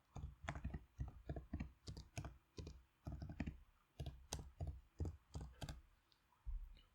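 Fingers tap out a short headline on a computer keyboard, giving close, crisp clicks in quick uneven bursts with brief pauses between words, in a quiet room.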